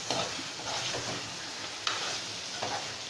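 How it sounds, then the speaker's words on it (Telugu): Chicken roasting in masala spices over a low flame, a steady close sizzle with a few soft stirring scrapes and clinks, no voices. "ఇలాగా చికెన్ బాగా రోస్ట్ అయ్యేదాకా కొంచెం సన్న సైడ్ మీద పెట్టుకొని ఫ్రై చేసుకోండి"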